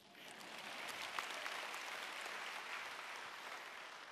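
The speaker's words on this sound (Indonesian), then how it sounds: "Tepuk tangannya kurang ikhlas." A church congregation applauding during a Sunday service, a steady wash of many hands clapping at a distance, fairly faint and even for about four seconds with no voices over it.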